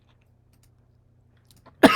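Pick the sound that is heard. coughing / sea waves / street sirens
coughing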